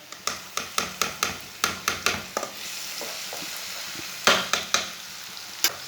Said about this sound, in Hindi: आधा चम्मच लहसुन का पेस्ट डालेंगे।